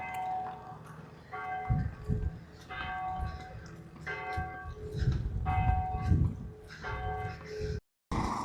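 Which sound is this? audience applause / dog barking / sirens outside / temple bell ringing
temple bell ringing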